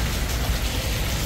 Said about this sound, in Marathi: आत्ताच आम्ही आलो, भरपूर पाऊस पडते, थांबा दाखवतो तुम्हाला।